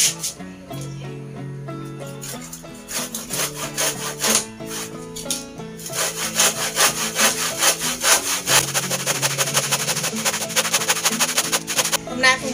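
Wood is hand-sawn in a garden for a new trellis, with steady back-and-forth strokes that are loud and close, speeding into a quicker continuous rhythm toward the end.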